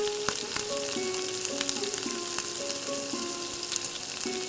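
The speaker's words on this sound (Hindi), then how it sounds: "मसाले हमारे फ्राई हो गए हैं।" Spices fry in a pan with yogurt and mushrooms for mushroom biryani, giving a constant close sizzle and crackle with occasional stirring clicks and no talking.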